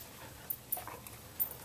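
Tiny whimpers and squeaks from a litter of 11-day-old Samoyed puppies, a few short soft yips popping up over a faint steady background hiss, no voices.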